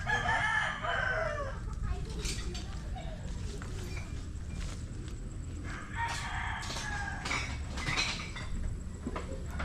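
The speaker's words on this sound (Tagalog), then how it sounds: "Manukan na pala dito." Chickens and a rooster at a poultry yard cluck and crow nearby, fairly loud, while people talk over the birds.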